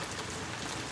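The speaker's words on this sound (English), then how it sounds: "I'm dancing in the rain." Rain pouring down in a dense, even wash of patter, steady and fairly loud throughout with no voices.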